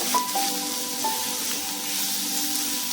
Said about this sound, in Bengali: ওই মাপেরই ক্যাপসিকাম, ওই মাপেরই টমেটো। ভালো করে একটু নেড়ে নেব।